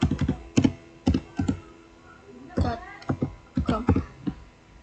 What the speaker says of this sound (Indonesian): Lalu kita ketik perintah ping